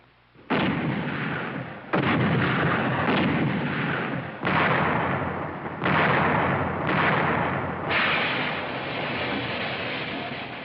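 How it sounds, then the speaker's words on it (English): Cold War era US Army artillery in archival film fires in a rapid series of about six heavy booming blasts, each rolling into a long rumbling tail that overlaps the next, loud with no speech. "You're looking at the United States Army's modern artillery weapons in action."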